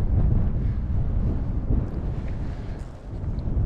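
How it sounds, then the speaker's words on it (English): Wind gusts buffet the microphone outdoors beside a river during trout fly fishing, a continuous heavy low rumble that swells and eases slightly. "If we can go 30 seconds without a wind gust, it would be spectacular"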